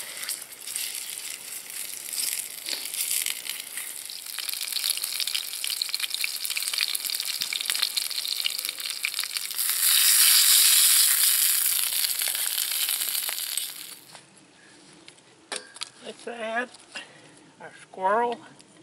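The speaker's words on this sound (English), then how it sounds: "Just saute these front and back legs." Squirrel front and back legs sautéing in hot oil for chili, a steady close crackling sizzle that swells loudest midway, then drops off to quieter spitting while a person talks at the end.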